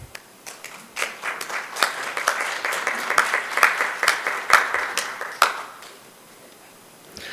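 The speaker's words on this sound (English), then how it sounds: "So please welcome him with a round of applause." Sustained applause from a conference audience at a hospitality sustainability session, dense clapping swelling and peaking around the middle, then thinning out and fading in the final seconds with no talk over it.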